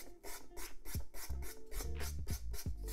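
Rhythmic rasping strokes of sanding scrape across the hard surface of a 3D sculptural wall art piece, back-and-forth passes repeating steadily at close range.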